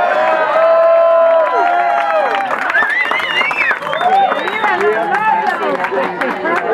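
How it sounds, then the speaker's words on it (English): Wedding guests burst into loud, close cheering and clapping for the newlyweds, with many excited voices shouting and whooping over one another throughout. "Applause for the newlyweds."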